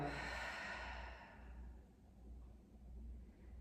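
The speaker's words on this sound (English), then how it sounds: "Take one more big breath in and let it go." A slow deep exhale during a calming bedtime yin yoga session, a soft breathy whoosh that fades over about two seconds into quiet room tone, close and gentle with no speech.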